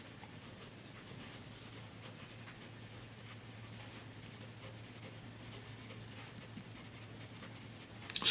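A Platinum Preppy 02 fountain pen loaded with Noodler's Baystate Blue ink writes on paper, giving a soft, steady, close-up scratching that runs continuously with no voices.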